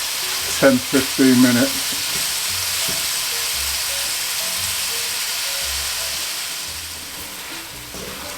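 Beef browning in a pot for Jamaican brown stew sizzles in a steady, even hiss throughout, with a brief burst of speech near the start.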